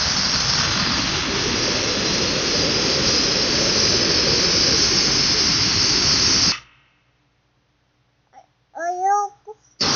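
A car engine roars loudly through a large exhaust tip, producing a dense, steady rumble that holds close for several seconds and then stops abruptly, followed by silence and a brief burst of talking.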